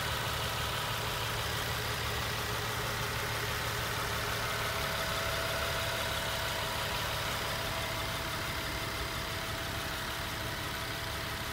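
A 2009 Nissan 370Z Touring engine runs at a steady, even idle, heard close and continuous with no speech.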